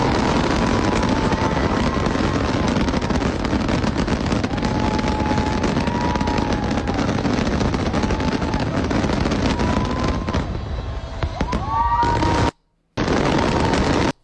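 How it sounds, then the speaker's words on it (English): Record-breaking New Year's Eve fireworks roar as a dense, continuous crackle and rumble of bursts, with faint whistles rising at times and a brief dropout near the end. "this is a snippet of the world record that was broken for their fireworks show for New Year's Eve"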